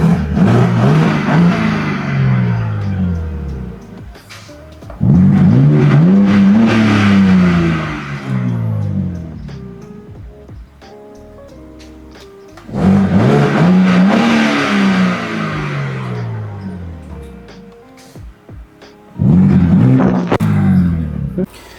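A BMW G87 M2 with an exhaust valve controller fitted is revved in four loud, rasping bursts, each swelling and falling back to a rumbling idle, recorded up close.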